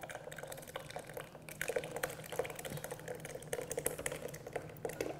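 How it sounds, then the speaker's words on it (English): Cooled ice cream mixture is poured into a Cuisinart ICE 100 ice cream and gelato maker, a quiet, close liquid trickle broken by soft drips and light clicks. "You just pour the cooled ingredients right inside."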